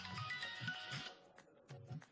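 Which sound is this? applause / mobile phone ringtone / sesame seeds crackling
mobile phone ringtone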